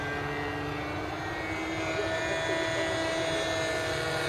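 A light aircraft drones steadily overhead on a low approach to a runway, a continuous propeller engine hum with a steady tone throughout and no break.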